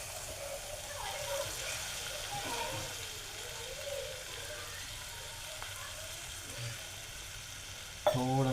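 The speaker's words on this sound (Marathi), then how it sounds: "हे बघा इथे मी आता थोडंसं पाण्याचा हापका मारतो." Kantola vegetable fries in a pan with a soft, steady sizzle, and a splash of water sets off a faint crackle that stirring keeps going. The whole scene stays quiet, ending in a brief clatter.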